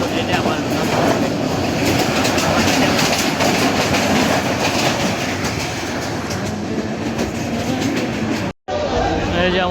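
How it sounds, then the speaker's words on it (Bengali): A Sonar Bangla Express train runs at speed on the rails between Chittagong and Dhaka, a loud, steady rumble with clattering wheels heard from on board, cut briefly by a sharp dropout near the end. "এই যে আমাদের ট্রেন"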